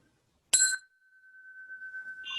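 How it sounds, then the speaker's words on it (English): A bell rung as a timer during a speech contest gives one sharp strike followed by a clear, sustained ring that slowly fades, then a second higher ring. "Okay, this is the bell."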